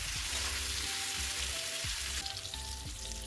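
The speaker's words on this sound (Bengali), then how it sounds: "গ্যাসটা বাড়িয়ে খুব সুন্দর একটা রং আসা অবধি আলুগুলোকে ভেজে নিলাম" Potatoes fry in hot oil over raised gas heat, giving a steady, close, hissing sizzle that runs unbroken throughout, with a few faint clinks and no voices.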